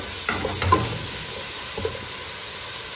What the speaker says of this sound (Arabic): هنزل كده بمعلقه كبيره من الثوم المفروم وهبتدي اقلب